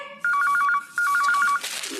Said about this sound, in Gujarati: જેટલી વાર ફોન વાગે મારે દોડીને ફોન